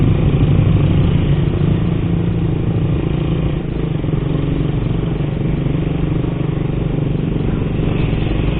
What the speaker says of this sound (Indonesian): apakah motor yang usianya sudah lebih dari 10 tahun ini kuat untuk menanjak sampai ke puncak Kamojang